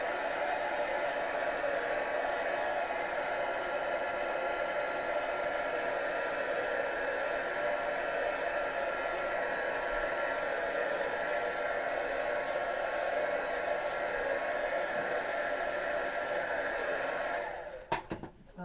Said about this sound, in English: I'm going to tap it with a heat gun a little bit so that we can speed up the drying time.